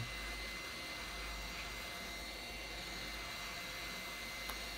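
Heat gun blowing hot air across a Honor 8 Pro phone screen, a steady close whooshing hiss with no break and no talk.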